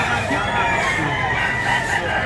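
A rooster or chicken at a busy Filipino market sounds off amid crowd noise, with people talking around it throughout.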